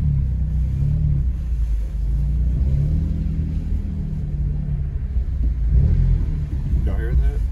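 A car engine rumbles low and steady, rising slightly near the end as the revs climb, with a muffled interior drone throughout.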